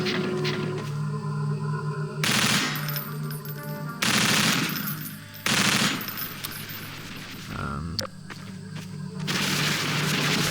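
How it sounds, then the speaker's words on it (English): Half-Life 2 SMG fire aimed at headcrab zombies comes in loud rapid bursts, with brief gaps between volleys over a constant game backdrop. "it is quite fun using the SMG, just because it's headcrab zombies, complete with extra headcrab"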